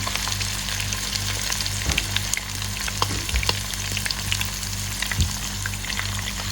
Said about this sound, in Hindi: तो आप देख सकते हैं यहाँ पे हमारा चिकन जो है वो हो रहा है फ्राई